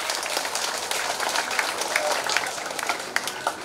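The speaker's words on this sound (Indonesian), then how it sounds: "Mari kita beri tepuk tangan untuk Bapak Guru" An audience gives applause for the teacher during a school visit, a dense patter of clapping from many hands, sustained and fairly distant, with a few louder claps near the end.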